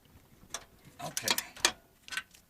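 A wrench ratchets in short, quick clicking bursts while bolts are tightened on an air-ride compressor being installed under a 2007 Chevy Suburban, close and fairly faint.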